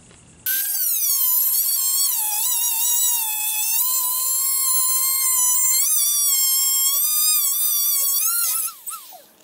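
A small Dremel rotary tool screams at high speed for several seconds, pitch wavering as it bites into Ford Sport Trac dashboard plastic, then winds down and stops.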